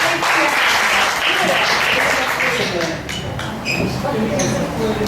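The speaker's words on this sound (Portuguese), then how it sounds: "Eu quero um aplauso para esses dois homens de Deus." A church congregation applauds loudly and continuously during a pastor's sermon, a dense clapping wash with voices and a few bright tones mixed in.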